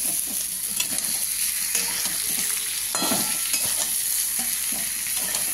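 Vegetables with turmeric, salt and sugar sautéing in a pan for daliya khichuri, a loud steady sizzle under repeated scraping strokes of a spoon stirring against the pan.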